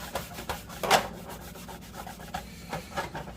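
A towel rubs seasoning oil into a cast iron pan in a series of short, scratchy strokes at an uneven rhythm, close and fairly quiet, with one stronger rub standing out among the others.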